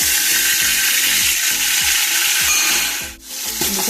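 Whole garam masala spices (clove, cinnamon, cardamom) and tomato frying in a pan for chicken dum biryani, giving a loud, steady sizzle broken by rhythmic scraping stirs.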